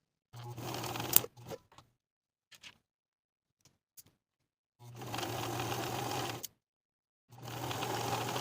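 A sewing machine edge stitches a knit jacket pocket in short bursts: a whirring run, a few faint clicks and pauses, then two longer steady stitching runs, quiet and close.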